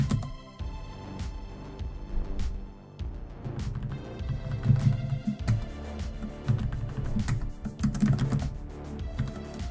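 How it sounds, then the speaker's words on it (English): Computer keyboard being typed on during Ruby on Rails coding work, a busy run of clicky keystrokes close by and fairly loud throughout, with some low thumping underneath. "this keyboard is going nuts right now"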